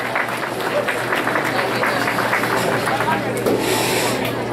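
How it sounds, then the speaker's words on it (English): School audience at an eighth-grade band pasta dinner applauding a student teacher, a steady wash of clapping over crowd chatter and a low hum. "So nice round of applause for Miss Conrad and help them out."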